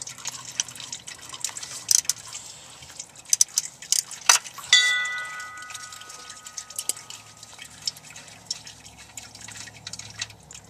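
Manual transmission oil draining from a 2000 Ford F350 drips and trickles quietly into a pan, with a few sharper metallic clinks and a brief splash midway, otherwise soft and close.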